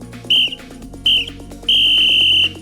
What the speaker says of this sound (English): And that's the final whistle on today's quiz.